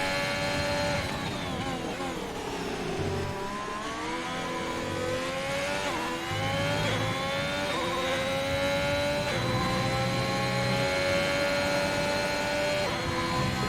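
F1 race car engines in an Xbox racing game at the British Grand Prix whine and rev continuously, high-pitched tones sweeping up and down through gear changes over a steady, loud engine drone with no talk.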